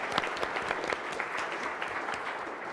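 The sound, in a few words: audience applause for presenters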